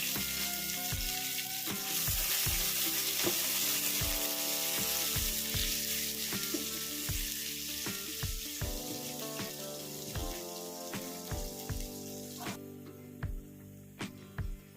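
Chopped onions frying in hot oil after mustard seeds have spluttered, with a steady loud sizzle and sharp crackles and pops, plus occasional clinks of a spoon against the pan.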